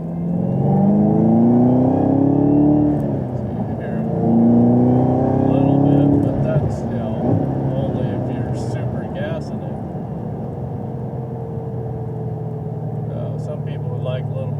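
A Chevrolet Camaro ZL1 supercharged engine with a freer exhaust revs up in rising sweeps, then settles to a smoother hum, with a voice talking over it.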